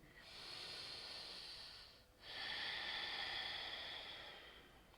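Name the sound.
breathing in yoga downward facing dog pose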